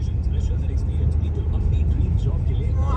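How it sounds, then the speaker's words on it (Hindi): A car rumbles steadily along the road on the way to a railway station in Jaipur, its low engine and road noise continuous and close, with someone talking over it throughout. "और ये हमारी गाड़ी चल रही है।"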